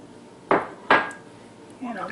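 A metal spoon knocks twice against a copper pan, two sharp close clanks about half a second apart, while sliced hard-boiled eggs are worked in with toast; a faint rustle follows.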